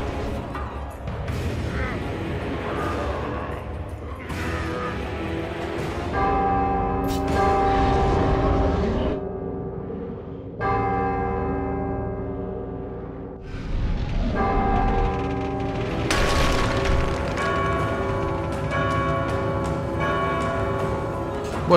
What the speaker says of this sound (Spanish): Tocar las dos campanas